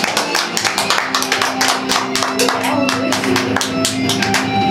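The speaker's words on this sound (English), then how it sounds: "Clap, everybody clap." Guests at a Las Vegas wedding chapel clap together in a quick, sharp burst of many close hands, with an organ-like musical tone sustained underneath.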